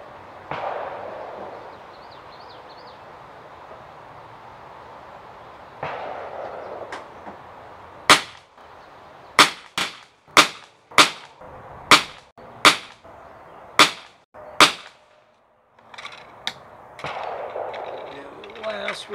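Gunshots from CCI ammunition fired at ambient temperature, about nine sharp loud reports spaced roughly a second apart, preceded and followed by quieter outdoor background noise.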